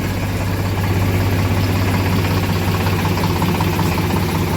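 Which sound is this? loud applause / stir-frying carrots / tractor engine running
tractor engine running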